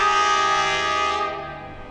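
A train horn blares long and loud at Urumqi railway station, a steady sustained tone that fades toward the end, with no voices.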